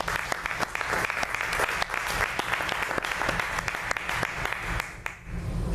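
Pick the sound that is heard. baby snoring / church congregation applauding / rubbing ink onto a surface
church congregation applauding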